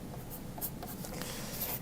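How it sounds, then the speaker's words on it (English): A pencil writing a name on the back of a white sheet of paper, close, quick scratchy strokes in short bursts, with no talk. "First thing I need to do is put my name on the back of my white sheet of paper."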